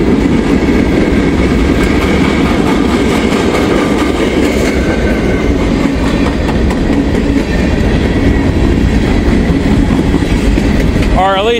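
A freight train rolls past close by, a steady loud rumble with wheel clatter running through the whole stretch, and a brief metallic squeal near the end.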